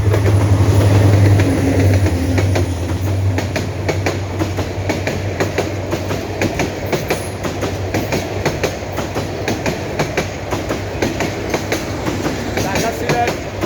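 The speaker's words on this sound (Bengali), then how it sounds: "পাহাড়ের ভিতর থেকে ট্রেনের ভিডিও দিচ্ছি" A Dhaka–Sylhet passenger train runs past on a hillside track near a gas field, a steady loud rumble with rhythmic rail clatter throughout, strongest at the start, with faint voices in the background.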